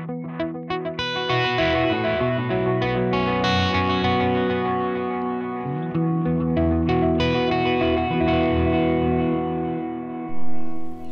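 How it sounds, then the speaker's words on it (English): Electric guitar run fully wet through the tape delay of the STL Tonality plugin, with reverb and delay and no clean signal. Loud, sustained chords and notes smear into repeating echoes and a lingering wash throughout. "You have tape delay."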